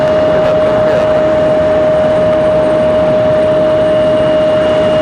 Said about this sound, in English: these CRJs and E175s are really, really loud tonight